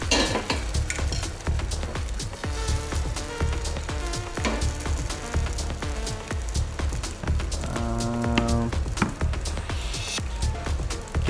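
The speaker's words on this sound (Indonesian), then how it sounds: "kalau udah adonannya kita masukkan ke dalam teflon" Jackfruit pancake batter cooks in a Teflon pan with a steady, dense sizzle and frying crackle, marked by frequent sharp clinks of a utensil against the pan, and a brief tonal ring partway through.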